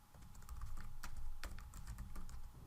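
Steady typing on a computer keyboard, a quick run of soft key clicks over low background hum, moderately close and fairly quiet, with no talking.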